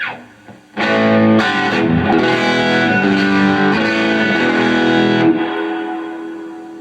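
An electric guitar plays a strummed chord phrase through a Fender Blues Junior amp, warm and slightly overdriven, ringing out and fading at the end.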